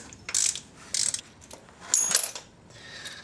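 A 6mm Allen key works at a timing belt tensioning roller on a 2.8L VW Passat/Audi engine, giving short bursts of close metallic ratcheting clicks and a brief jingle, spaced by quieter gaps.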